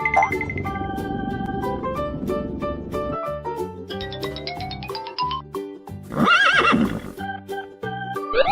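A cartoon horse in a children's animated drawing and coloring lesson gives a loud, shaky whinny near the end, following a stretch of chiming, tinkling music tones. No voices.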